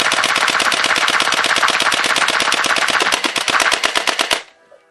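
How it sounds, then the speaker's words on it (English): A Yagee M762 gel blaster fires a fast, steady full-auto burst at a target, loud and close, with the rhythmic shots continuing for about four seconds before stopping abruptly. "I'm going to be shooting for the middle of the body."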